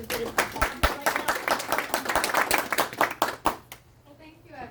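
A small audience claps at a morning oyster talk, with scattered, distinct handclaps building briefly and then stopping abruptly, leaving near-silence.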